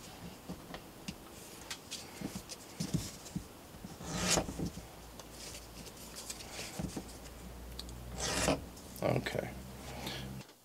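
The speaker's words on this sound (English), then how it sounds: "take the edge off of that strap as it bevels the edge. Do that on all my edges here." An edge beveler rasps along the edge of a leather belt strap in a series of short scraping strokes, close and moderately loud.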